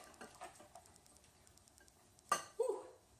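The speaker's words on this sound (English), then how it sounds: "Mix those up." Banana peppers and chopped tomatoes mixed together in a bowl for salsa, with soft light tapping and then a couple of louder clinks of a utensil against the bowl near the end.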